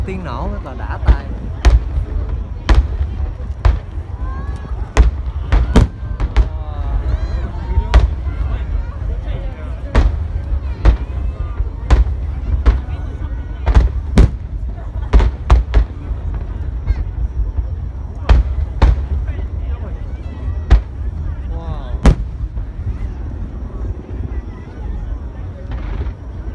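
Fireworks burst over the Yodogawa River in Osaka, a long run of sharp booming explosions at irregular close intervals, some in quick clusters, over a constant low rumble and crowd murmur with voices talking nearby.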